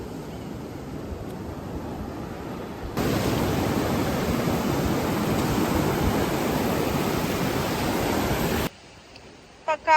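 Small sea waves wash onto the sandy shore of Haad Rin beach on Koh Phangan, a steady broad rush that swells louder partway through before dropping off abruptly near the end.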